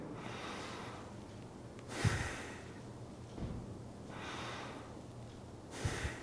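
A slow diaphragmatic breathing demonstration: soft, close breaths drawn in and let out, with a few stronger inhales spaced a couple of seconds apart over a quiet background, no speech.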